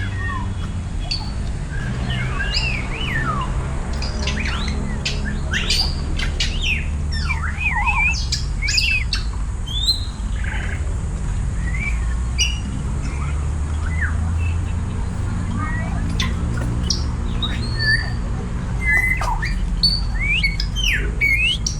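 Loud, harsh squawks of parrots ring out again and again over a dense, steady rumble, with chirps and calls overlapping throughout.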